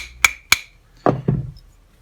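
Rear sight being tapped into place on a Santiago short stroke kit rifle: two sharp metallic taps in quick succession, then two duller knocks, close and alone.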